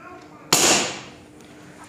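A single sharp report from a Diana P1000 air rifle cracks out close and loud, then fades over about a second of quiet.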